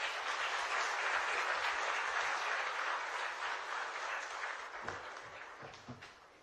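Sustained applause from an audience at a chief minister's investor meeting in Pune, a dense continuous wash of clapping that slowly tapers toward the end.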